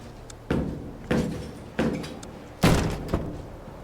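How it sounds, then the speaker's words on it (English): Four heavy thuds against a door in Door Kickers 2 as it is manually breached, spaced about a second apart and growing louder, with the final blow the strongest, close by and with no talk over them. "Looks like he's going to have to manually breach."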